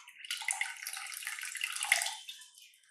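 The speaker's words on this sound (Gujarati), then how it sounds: "હવે આમાં પાણી એડ કરવાનું." Water pours into a pot of rice for Gujarati dal bhat, a steady splashing stream lasting about three seconds, close and fairly loud, then tapering off at the end with no talking.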